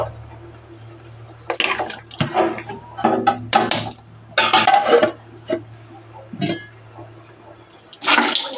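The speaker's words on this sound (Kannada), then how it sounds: "ಅದಕ್ಕೆ ಇವಾಗ ಗಂಜಿ ಬಸಿಬಿಟ್ಟು ಇಡೋಣ ಅಂತ ಅಂದ್ಬಿಟ್ಟು ಗಂಜಿ ಬಸಿತಾ ಇದ್ದೆ" Starch water being drained from a pot of cooked rice on a gas stove, heard as bursts of pouring and splashing water with clanks of the pot, against a steady low hum and no talk.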